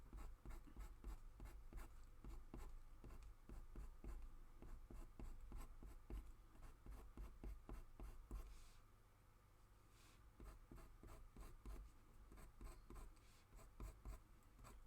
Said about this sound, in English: I'm using the wax pencil now, by the way, not the pastel pencil